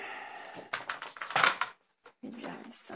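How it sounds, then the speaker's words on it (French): A spare paper trimmer slices a piece of cardstock, heard as a quick series of close, sharp scraping and clicking strokes, a brief pause, then more rustling handling of the paper. "Donc là, j'utilise mon massicot de rechange."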